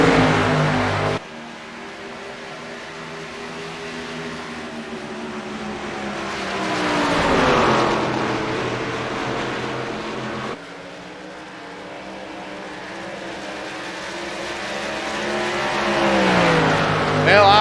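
Race cars lapping the oval at Darlington, engines droning steadily and swelling as they pass in two loud surges, with a commentator's voice talking over the track noise throughout.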